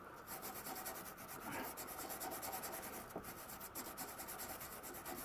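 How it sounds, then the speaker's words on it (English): A wire brush scrubs flaky surface rust off a Land Rover's metal in quick, continuous rasping strokes, close up and fairly quiet. "So best thing to do is out with a wire brush,"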